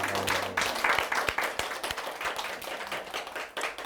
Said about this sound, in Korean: 선생님 힘내시라고 박수 한번 주세요